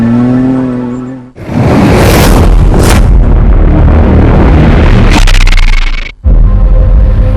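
A Can-Am rally vehicle in the Dakar 2018 rally roars past very loud and close, its engine blaring with harsh bursts and roughness. The sound cuts out abruptly twice, and no voices are heard.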